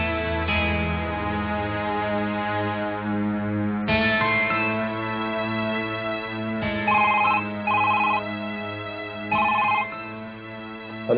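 A mobile phone ringtone plays a bright, musical melody in repeating phrases, steady and fairly loud for about eleven seconds with short pauses between phrases, in a Hindi television drama.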